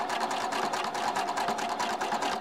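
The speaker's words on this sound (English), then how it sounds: "We're going to take it over to our machine and top stitch right along the edge." A sewing machine runs steadily, top stitching a narrow seam along the edge of a scalloped sunhat, with a continuous close whirring hum and no talk.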